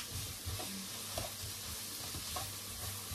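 Tomato paste sautéed in a pan with a steady, soft sizzle and occasional scraping stirs, at close range with no talking.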